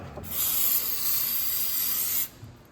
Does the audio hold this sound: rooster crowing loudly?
no